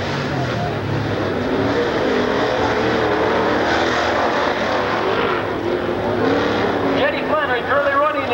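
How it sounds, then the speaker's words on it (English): Race cars at a 1993 Crandon World Championship off-road event roar around the track in a steady, loud engine drone, with a commentator talking over the noise. "Chet Flannery overtaking R.J. Flanagan and moving up a spot."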